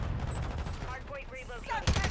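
Gunfire from a Call of Duty MW3 multiplayer match, a dense rattle of shots blended with game sounds and voice chatter, ending in a louder burst of fire.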